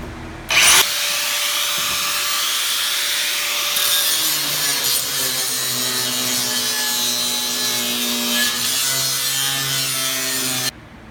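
An angle grinder cutting riveted metal parts off a vintage Prevost bus during demolition, a loud sustained whine with shifting pitch as the disc bites, starting and stopping abruptly.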